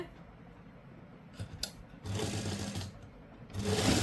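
Sewing machine stitching rib fabric onto a simple suit, heard as two bursts of close mechanical whirring separated by a quieter pause, with softer rubbing and handling of cloth before them.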